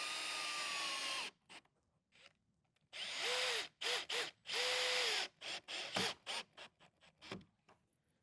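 A power drill drives screws into a tall flat-pack cabinet, close and loud, in several bursts of whining spin separated by short pauses and small clicks.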